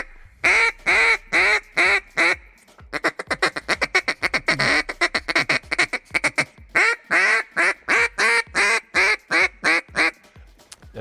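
Zink Calls duck call blown in a long series of rhythmic quacks, close and fairly loud at mid volume with a soft low end, sounding in short bursts then rapid chattering runs before slower spaced quacks.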